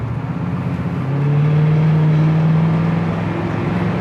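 A 1979 Camaro Z28 pulls hard from inside the cabin, its engine droning loud and near as revs climb steadily through a gear, the pitch rising and holding under heavy road noise.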